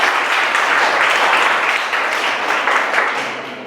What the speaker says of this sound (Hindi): तो एक बार बहुत अच्छे से इनके लिए तालियां बजा दें।